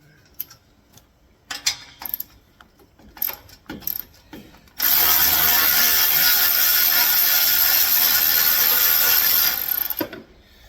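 Loud continuous whir of a power ratchet or impact tool running for several seconds, removing stainless steel bolts from the lights on a 2006 Ford F-250 truck, preceded by scattered clanks and clicks of handling.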